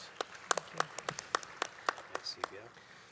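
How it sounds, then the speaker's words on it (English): Sparse, faint applause for conference panelists, with individual claps spaced irregularly and a voice speaking softly over them. "Please give them an applause"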